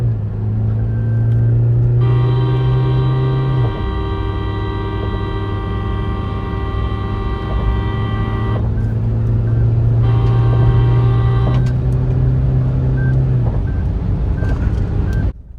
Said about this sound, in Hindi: भाई, भग रही है, एक्सयूवी भग रही है।